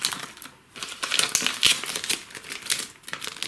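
Protective plastic film is peeled off a motorcycle headlamp guard for a BMW R1250 GSA HP, giving a close, continuous crackling and crinkling with uneven bursts.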